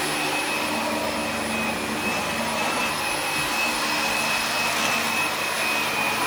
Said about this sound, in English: I'm holding this because you know Cain will hoover up the wire